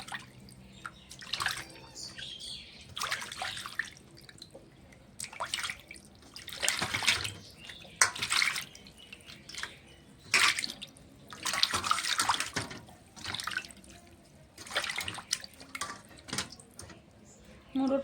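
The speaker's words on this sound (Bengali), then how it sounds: "মাছটাকে আমি ভালো করে ধুয়ে নেব।" Tilapia fish being washed by hand under running water, with splashing and rinsing in bursts that swell and fade, and a faint voice now and then in the background.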